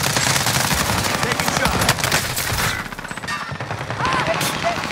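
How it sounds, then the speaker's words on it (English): Rapid gunfire in the video game Call of Duty Warzone, dense repeated shots and blasts that are loud and close, briefly dipping midway before resuming, with no voices over them. "What's up with all these shotguns?"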